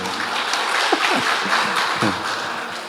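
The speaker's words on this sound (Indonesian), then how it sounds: "Tepuk tangan" An audience claps together at a school event at SMK Negeri 5 Malang, a dense, steady patter of applause with a few brief voices rising over it.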